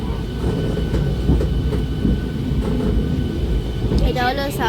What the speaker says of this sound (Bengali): এটা হলো সাউথ ইস্টার্ন রেলওয়ে ট্রেন